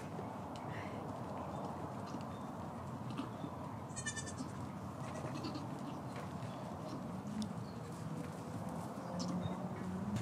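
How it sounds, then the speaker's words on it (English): Baby goats bleat now and then at a moderate distance on a farm visit, with brief high calls over steady outdoor rumble and faint movement noise. "coming to see the baby goats"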